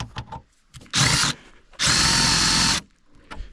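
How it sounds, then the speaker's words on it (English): A power drill bores into a Gen 4 snowflap being fitted to a 2014 Ski-Doo Summit XM 800R snowmobile: one short whirring burst, then a longer sustained run, with quiet handling noises between and after. "Maybe if I try to drill more"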